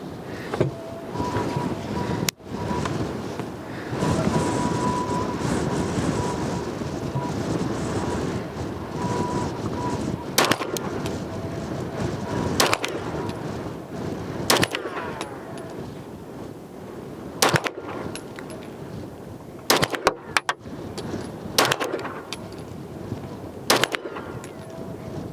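Atlas Gunworks Apollo pistol fired at an outdoor range: sharp single reports spaced a second or more apart, heard over steady wind noise across the microphone, with several shots standing out as distinct cracks.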